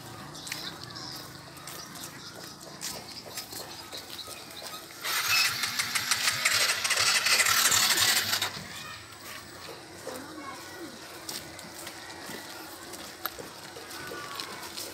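A stalled homemade motorbike sputters as someone tries to start it, its engine catching into a loud burst of revving partway through before dying back into quieter background with people talking nearby.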